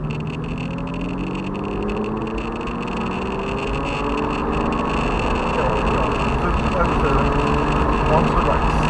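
Aston Martin DB9 engine pulling hard on a race track, a steady sustained drone with rising harmonics heard from the cockpit, with a voice speaking over it throughout.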